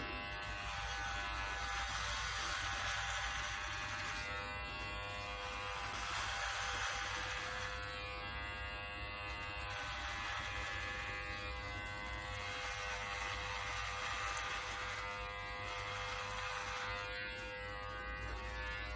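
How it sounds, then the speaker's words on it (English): Brio Beardscape electric beard trimmer cutting sideburns, a steady close-up buzzing hum that runs continuously with small fluctuations as it moves over the hair. "I'm gonna use a beard trimmer. This is a Brio Beardscape trimmer."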